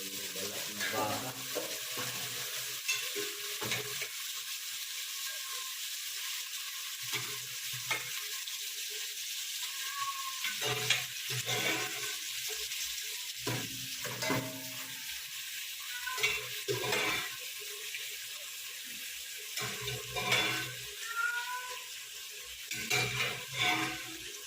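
Beef skin for kare-kare cooks in a pan with a steady, broad frying sizzle, broken by scattered scrapes and stirring clatters that come and go at moderate loudness throughout.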